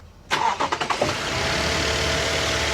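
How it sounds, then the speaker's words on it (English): A pickup truck engine fitted with a new SXTH Element cold air intake cranks with a few quick stuttering turns, then catches and settles into a steady, rumbling idle close by. "We're gonna start up the truck"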